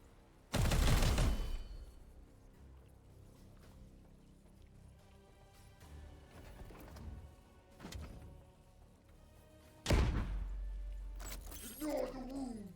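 Gunfire in a Warhammer 40k video game, loud bursts of shots that start early, recur sporadically and return strongly near the end, over quieter game ambience.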